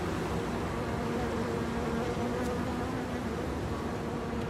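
Honeybees buzz at hives on a Paris rooftop, a steady, dense hum that holds evenly throughout with no voices.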